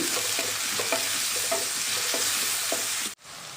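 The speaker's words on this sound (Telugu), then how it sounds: "కలుపుతూ ఫ్రై చేసుకోవాలి" Prawns and spiny gourd masala stir-fry in a pan with salt, a dense continuous sizzle broken by regular spatula scrapes, then a sudden cut to quieter sizzling at the end; no speech.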